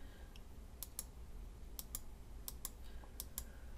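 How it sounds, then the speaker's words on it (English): Sharp mouse clicks in a quiet room while someone works at a computer digitizing handwriting for machine embroidery, about a dozen crisp clicks in small irregular clusters, close and clear over faint background hiss. "I'm just right clicking on all of them, left click at the end."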